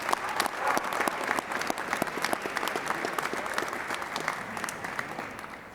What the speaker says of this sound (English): let's give them a round of applause and thank them for their hard work